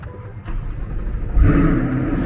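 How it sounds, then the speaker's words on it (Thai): A sports car engine cranks and fires up in a showroom, rising into a throaty rev that settles into a steady, loud idle nearby. "สตาร์ทมันจะเสียงลั่นไหมเนี่ย"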